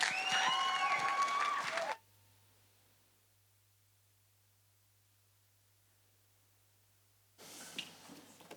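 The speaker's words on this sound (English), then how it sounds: "So everyone, round of applause for Viliami Ala." Enthusiastic audience applause at a Pasifika speech competition in Otago, a dense clapping burst for about two seconds that cuts to near silence before faint crowd noise returns.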